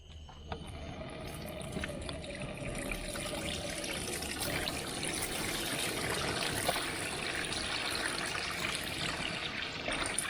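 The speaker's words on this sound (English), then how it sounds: "I'm gonna go wash my hands" Tap water runs steadily into a sink during handwashing, a constant close splashing trickle with small knocks and clatters early on.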